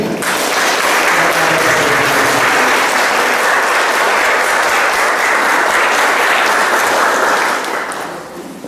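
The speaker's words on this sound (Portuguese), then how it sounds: "Demos uma salva de palmas por Davi" A church congregation bursts into applause after a baptism, dense and loud clapping that holds steady for several seconds before tapering off at the end.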